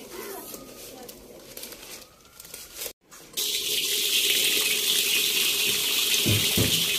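Tap water runs steadily into a basin while bedding is washed at home, starting faint and then gushing loud and close after a brief gap, with birds faintly audible and a few dull knocks near the end.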